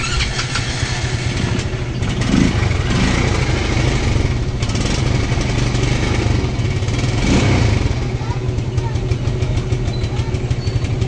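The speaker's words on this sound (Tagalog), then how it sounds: "namumugak siya, tapos mausok yung buga ng tambutso. Palyado, namumugak." A Rossi Delta motorcycle engine runs close by with an uneven, popping idle and occasional stumbles from misfiring, steady and loud throughout.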